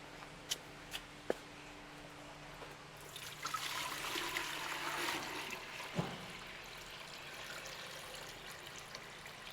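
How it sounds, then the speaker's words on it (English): Water poured into a pressure meter for concrete air-content testing, a soft trickling and splashing that swells for a few seconds in the middle, with faint knocks and handling noises around it. "Now we are going to fill it with water."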